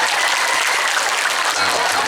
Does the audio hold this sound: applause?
yes